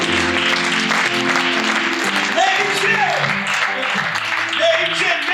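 Congregation applauding and cheering at a church sermon, a dense continuous wash of clapping and voices with music tones running underneath throughout.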